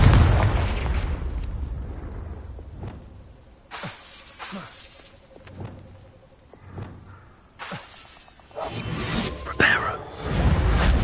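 Fiery blasts and whooshing bursts from Confringo and other spells cast in Hogwarts Legacy on PS5, several loud impacts spread across the span with quieter gaps between them.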